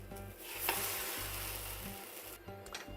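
Beet protein pancake sizzling steadily in a hot pan, a close, continuous frying hiss with a brief scrape as it is flipped, no voices.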